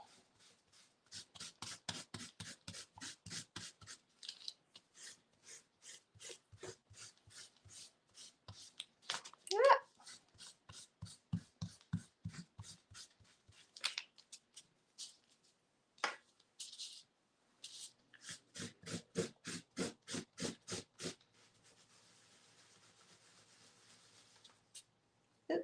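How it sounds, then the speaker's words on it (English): Dried paint is rubbed off a gel-printing stencil in quick, close scrubbing strokes that come in rhythmic bursts with short pauses, punctuated by an occasional louder scrape. "I'm just going to give this a little bit of a rub for her."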